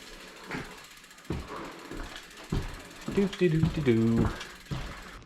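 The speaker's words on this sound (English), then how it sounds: "this right here, which swings up and down, it's got a nice little locking mechanism. It slides in there and then you can feel it lock in." Arm of a RockyMounts MonoRail bike rack swung into place and locked, giving a few sharp mechanical clicks and ratcheting clacks, with someone talking around them.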